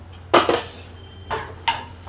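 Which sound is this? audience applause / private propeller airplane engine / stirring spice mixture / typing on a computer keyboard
stirring spice mixture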